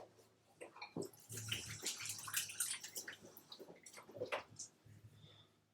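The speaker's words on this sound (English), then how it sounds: "So I'm going to wet my hands." Water runs and splashes faintly while hands are wetted before shaping pasta dough in a home kitchen, a soft continuous wash with small splashes and drips.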